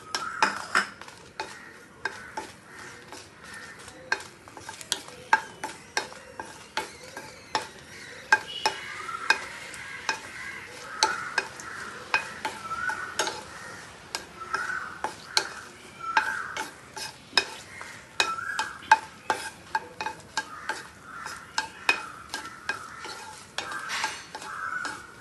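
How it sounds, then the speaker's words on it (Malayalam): Dried red chillies heat in oil for a chammanthi, crackling faintly as a spoon stirs and taps the pan in frequent sharp clinks over a low, steady sizzle, close by and without talk. "അതിനുശേഷം വറ്റൽ മുളക് ഇതിലേക്കിട്ട് ഒന്ന് ചൂടാക്കുക."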